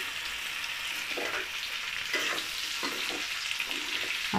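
Potato pieces frying in a pan for a dry soya-methi-aloo sabzi, a steady hiss of sizzling oil broken by several soft scrapes of stirring, fairly close with no voices.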